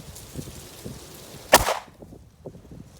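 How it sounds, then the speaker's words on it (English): A single loud, close gunshot from a GX4 pistol firing Underwood ammunition cracks out over quiet background noise and dies away quickly, with no talking. "shooting the GX4. 5 rounds of that nasty Underwood stuff going out of there"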